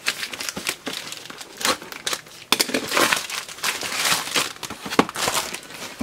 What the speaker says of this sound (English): it's going to be a bit trickier to open up, because it's covered in tapes. That's why I'm going to use a real knife for a change.